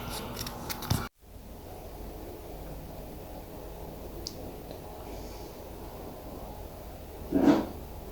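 Scissors cut through dress fabric, heard as a soft swish and a faint, brief crunch over quiet room noise, with a short clattering handling noise at the start.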